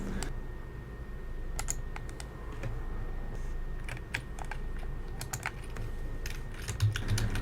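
Typing a name on a computer keyboard to fill in paperwork forms, light scattered key clicks in short bursts over a low steady room hum, no talking.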